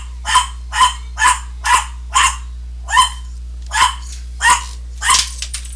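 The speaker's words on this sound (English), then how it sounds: "Don't worry about that damn dog." A dog barks loudly and close by, about ten sharp, evenly spaced barks in a steady rhythm over a constant low electrical hum, with no talking.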